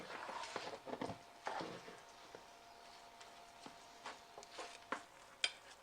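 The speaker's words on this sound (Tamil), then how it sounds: "ஸோ நல்லா நம்ம கிண்டிட்டோம்." Ven pongal is stirred in a pot with a spoon, giving faint, irregular scraping and soft clinks in short bursts against a quiet background, with no voices.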